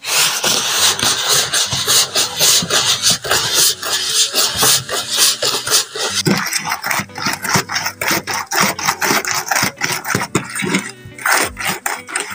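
Margarine and granulated sugar being creamed together with a spatula for a Nigerian plain cake, giving continuous scraping and rubbing strokes against the bowl with an irregular rhythm, close and fairly loud throughout.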